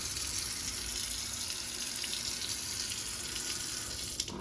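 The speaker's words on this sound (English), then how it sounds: "Let's check the water pressure for our usual plumbing test." Water runs steadily from a basic kitchen sink faucet into a single-wide sink, a loud, continuous hiss close by, with a faint knock near the end.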